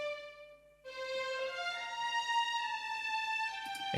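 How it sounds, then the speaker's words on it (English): Sampled string section of violins from the Cinematic Studio Series library playing alone, sustained legato notes rising through a melody with a bright harmonic tone, clear and close with no other instruments. "here's the violins on their own"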